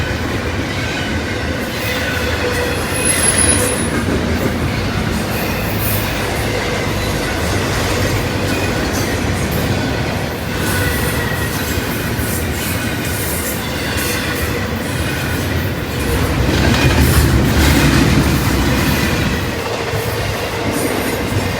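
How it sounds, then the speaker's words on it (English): A southbound CSX intermodal freight train led by three GE locomotives rolls past for an extended stretch, a loud steady rumble of wheels and cars with occasional squeals and clicking over rail joints, swelling briefly near the end. "This is a southbound CSX intermodal led by 3 CSX GEs heading to Folkston, then Jacksonville,"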